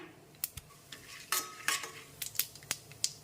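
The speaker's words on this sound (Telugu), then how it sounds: "శనగపప్పు, మినపప్పు, ఆవాలు, జీలకర్ర వేసుకొని వేయించుకుందాం" Chana dal, urad dal, mustard and cumin seeds fry in a spoonful of oil in a kadai for bottle gourd chutney. Close, sharp scattered clicks and metallic scrapes sound over a faint steady hiss, with no voices.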